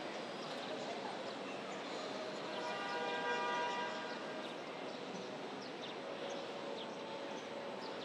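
A train in Singapore rumbles past at a moderate distance, a steady broadband roar with a faint rhythmic clatter of wheels and no voices.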